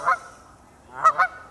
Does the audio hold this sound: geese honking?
yes